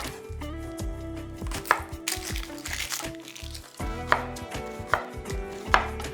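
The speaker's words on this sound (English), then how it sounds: "Slice up your onion." A knife slices an onion on a cutting board, close and fairly quiet, with several sharp taps against the board.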